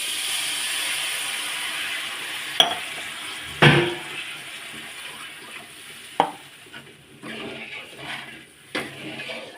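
Water poured into hot oil in a cooking pan, giving a hissing sizzle with sharp clattering knocks of a utensil stirring against the pan at irregular intervals.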